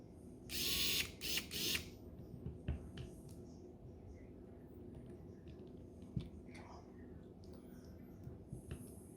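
A screw is driven back into a Traxxas Maxx RC car differential with small clicking and ratcheting taps, close and intermittent, with a brief louder hiss-like burst at the start.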